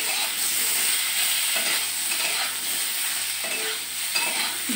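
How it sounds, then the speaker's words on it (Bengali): Potatoes for a fish curry frying in hot oil, with a continuous hiss of sizzling broken by occasional soft scrapes as they are stirred around the pan, heard close with no talking. "ভালো করে কষিয়ে নিচ্ছি।"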